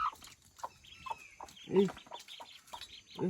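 A hen clucks in short, separate bursts at moderate loudness, with quiet pauses between calls and faint background noise.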